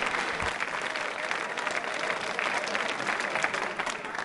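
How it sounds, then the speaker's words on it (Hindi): Loud, sustained applause from a quiz show audience, steady dense clapping filling the whole stretch without a break. "तालियां जोरों से।"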